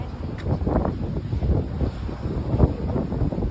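Wind blowing outdoors near coconut trees at a town market in Thailand, a steady rushing buffet across the microphone with low rumbling gusts throughout.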